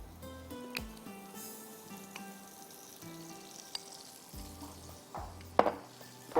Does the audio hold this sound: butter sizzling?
yes